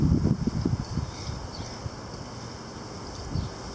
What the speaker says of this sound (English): It's windy everywhere.